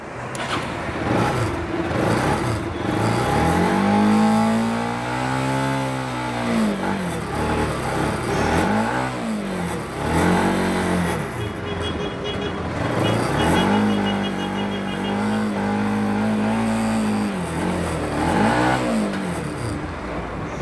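A Bajaj Pulsar 200 motorcycle engine starts, then revs up and down several times in rising and falling swells, close and loud, with a voice talking over it.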